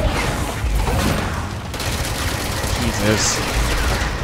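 Rapid fire from the player's gun in Control rattles loudly and steadily through a boss battle, with a man's exclamation heard over the shots.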